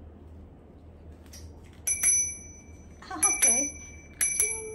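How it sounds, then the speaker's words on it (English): A bicycle bell rung in a Singapore home, three bright metallic rings spaced a second or so apart, with someone speaking briefly between them. "and then this bell. For what? For my bike."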